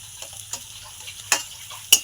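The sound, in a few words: garlic paste frying with onions in oil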